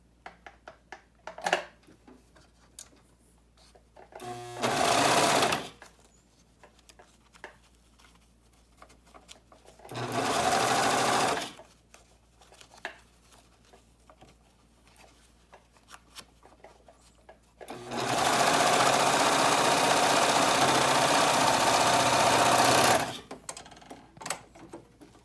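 A sewing machine runs in three separate bursts, short at first and then one long steady run, stitching a seam closed over wire tucked inside, with quiet handling noises between runs.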